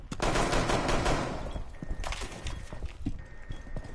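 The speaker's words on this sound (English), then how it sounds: "I heard gunfire." Rapid bursts of gunfire in the tactical shooter Rainbow Six Siege, dense automatic fire at the start then scattered sharp shots and impacts, loud and close with no talk over them.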